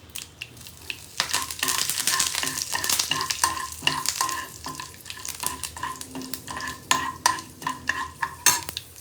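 Curry leaves sizzle in hot oil, a crackling fry with busy stirring and scraping strokes in irregular bursts throughout, close and clear with no talk.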